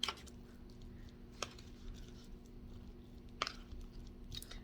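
Shrimp and a keto dish being chewed close to the mouth, faint and soft, with a few louder wet crunches or clicks scattered over a quiet background.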